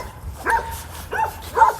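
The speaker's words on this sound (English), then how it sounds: "As I walk by this dog again" A dog gives three short whimpering yips and barks, spaced about half a second apart, over a faint low background hum.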